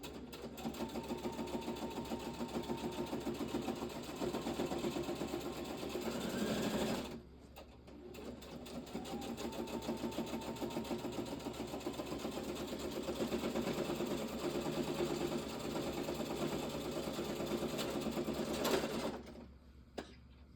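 A sewing machine runs steadily with a fast mechanical whir, pauses briefly, then stitches again for a long stretch before stopping.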